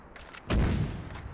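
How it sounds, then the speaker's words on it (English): .50 caliber machine gun fire in the video game Arma 3, a single loud close boom followed by a lingering rumbling tail, with no talk. "Yeah, it's a 50 cal."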